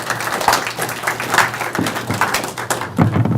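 Audience applause at an astronomy club meeting in Ottawa: a few seconds of moderate, steady clapping from a small indoor crowd.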